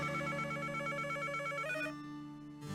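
Telephone ringing in a Nancy Drew mystery video game, a rapid warbling electronic trill that repeats steadily for about two seconds, then stops, leaving a faint low hum.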